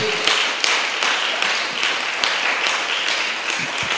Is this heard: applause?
yes